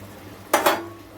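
Paneer cubes stirred into thick sugar syrup in a pan, heard as two quick close clinks of a utensil against the pan over a faint background hum.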